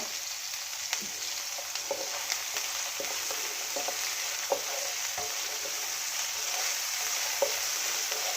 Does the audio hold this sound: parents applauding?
no